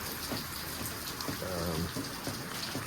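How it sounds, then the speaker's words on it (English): Soft, constant patter of light rain falling on a surface, with a faint voice briefly murmuring in the background. "this is just a slight downpour"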